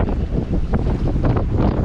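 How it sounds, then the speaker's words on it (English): Strong wind buffets the microphone out on open water while waves build, a steady broadband roar with gusty swells and no speech. "we got a whole lot of wind at the moment"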